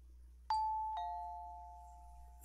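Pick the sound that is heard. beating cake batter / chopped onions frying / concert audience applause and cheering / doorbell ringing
doorbell ringing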